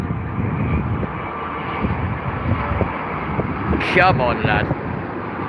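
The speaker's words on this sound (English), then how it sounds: "Virgin Atlantic from Los Angeles back into Heathrow in the Dreamliner" A Virgin Atlantic Boeing Dreamliner arriving from Los Angeles roars on its landing approach at Heathrow, a steady jet engine rumble mixed with wind noise, with someone speaking briefly near the end.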